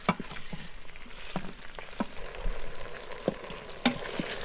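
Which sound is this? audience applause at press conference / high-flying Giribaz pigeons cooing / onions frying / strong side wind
onions frying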